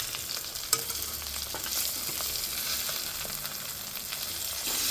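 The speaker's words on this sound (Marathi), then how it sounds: "आणि त्यातला एक मसाला असा छान भाजला जातोय" Stuffed village eggplants and spice masala fry in a pan with a little oil, giving a steady close sizzle with occasional stirring clicks and scrapes, alone without talk.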